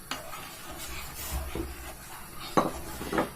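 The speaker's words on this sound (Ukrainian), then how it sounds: "І тепер сюди додаю вівсяночку." Oats go into boiling milk in a pot on a lowered gas flame, with a spoon scraping and clinking against the pot in short, uneven strokes. A brief louder clatter near the end comes over a soft simmering hiss.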